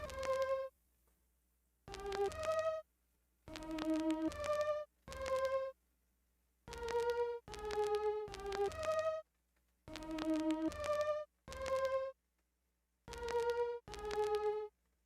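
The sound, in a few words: strings melody in a beat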